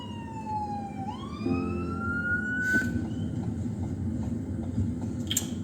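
A fire engine siren wails nearby, its pitch sweeping upward, over rumbling traffic with a couple of brief horn-like bursts.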